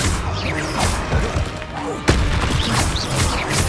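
Confringo spell blasts in Hogwarts Legacy land as a muffled thud amid busy combat noise, with one sharper burst in the middle and a voice calling out over the fight.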